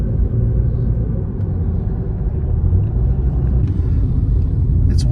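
A steady low road rumble fills the cabin of a comfortable car on a long drive to Phuket Airport in Thailand, with engine and tyre noise continuous and even, and no talk.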